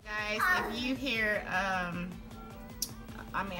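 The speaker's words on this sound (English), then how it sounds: "If you hear some noise or little kiddos in the background, those are my babies" Young children chatter close by with high, bright voices rising and falling in short bursts, with a few small knocks in between.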